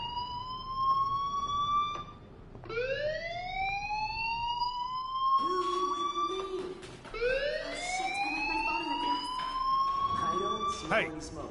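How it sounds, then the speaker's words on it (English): Alarm in a video game repeatedly wailing, rising sweeps that climb in pitch and hold, several cycles in a row, loud and continuous over background game sounds. "Hey, do you hear that fire alarm? That means you should be outside."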